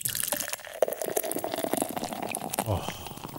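Beer pours and glugs into a glass up close, splashing and filling for a few seconds.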